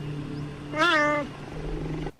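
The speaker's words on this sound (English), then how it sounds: "Cheetahs meow." A cheetah gives a single drawn-out, rising-then-falling meow lasting about half a second, heard alone over a steady low background hum.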